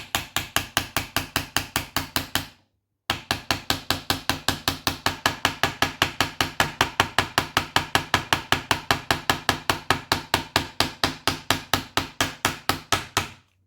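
Steady rhythmic hammer taps drive a part into a Crosman A4-P adjustable stock during installation, dozens of evenly spaced close knocks with one short pause near the start, no talking.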